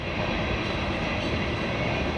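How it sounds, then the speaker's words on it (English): A freight train rolls through a Texas town with a continuous, steady rumble and clatter of railcars, fairly loud and close, with no voices. "a freight train travels through or stops in town every 18 to 22 minutes"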